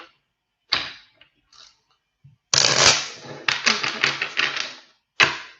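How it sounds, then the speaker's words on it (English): Tarot cards being shuffled come through as several sharp riffling bursts with pauses between them, then a longer run of rapid flicking, all close and dry with no voices. "I cannot shuffle the cards today"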